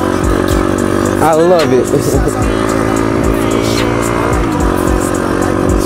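Piranha 140 engine swapped into a CT70 clone minibike revs up and down close by, a loud buzzy rasp rising and falling in pitch, with someone speaking briefly over it.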